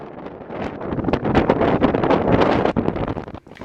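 Strong wind gusting to about 40 knots at a boat anchorage buffets the microphone in loud, rumbling gusts that surge and ease over a few seconds.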